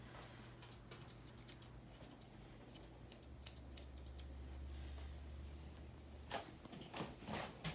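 Scissors trimming a dog's ears make a rapid series of small, close snips and clicks over a low steady hum, with no voice present.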